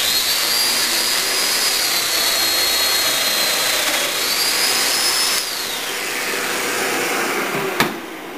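A woodworking mortising machine cuts a mortise into wood for a fireplace mantle, giving a loud, steady whining drone that shifts in pitch partway through and ends with a brief sharp knock.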